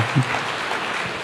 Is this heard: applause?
yes